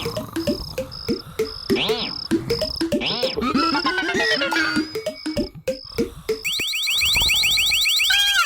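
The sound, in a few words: alarm ringing on a box in an animated cartoon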